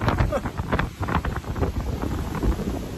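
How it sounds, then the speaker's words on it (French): Outdoor wind buffets the microphone in uneven, loud low-frequency gusts throughout, close and rumbling. "il y a du vent."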